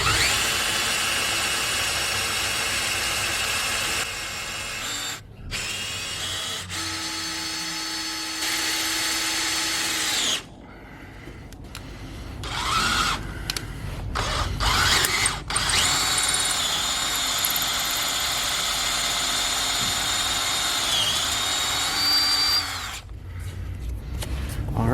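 A power drill fitted with a drill bit works on a Chevy 292 cylinder head part, running loud and steady in long stretches, with brief stops and restarts partway through, and no voices.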